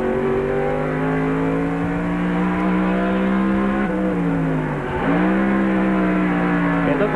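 Race car engine at South Boston Speedway in 1995 holds a steady, loud high-revving drone throughout, with a brief dip and recovery midway as the car stays on the throttle.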